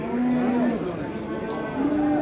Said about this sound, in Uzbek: Hozirda bitta sigir savdo bo'lyapti.